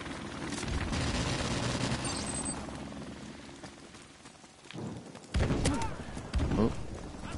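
Gunfire in the video game Modern Warfare Remastered, with a steady crackle under a rumbling background that gives way to louder, sharper bursts of shots near the end.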